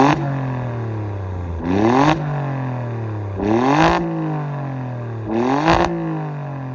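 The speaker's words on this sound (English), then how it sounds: "I'm going to let you guys reminisce over it by listening to the sound note that it makes" A twin-turbo V6 in an Alfa Romeo Stelvio Quadrifoglio SUV in race mode revs three times, each sharp rise in pitch falling back to a steady drone, heard loud and steady without talk.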